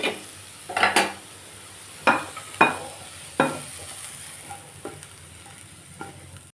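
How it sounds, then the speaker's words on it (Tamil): Sautéed vegetables are stirred into millet adai batter in a bowl, a few scraping spoon strokes against the bowl followed by softer, fading taps, with no talking. "இந்த காயை மாவில் சேர்த்துக்குருவோம்"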